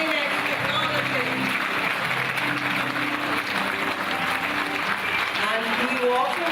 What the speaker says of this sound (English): let's keep the applause going for National Innovator of the Year in Science and Technology.